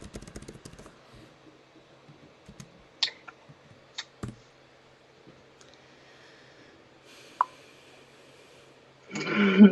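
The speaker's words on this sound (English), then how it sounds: "I'm typing these into the comments so everyone can also see them." Sparse clicks of a computer keyboard being typed on, scattered soft taps and a few sharper key strikes spread across a quiet room, ending in a brief louder rustle.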